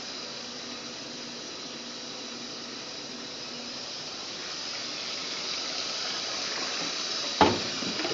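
Twin-tub washing machine filling with water, a steady hiss of running water that swells slightly toward the end, capped by a brief sharp clunk.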